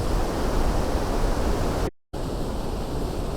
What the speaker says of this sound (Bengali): এই সুন্দর ঝর্ণাটা কিন্তু আমাদের পেছন সাইডটাতে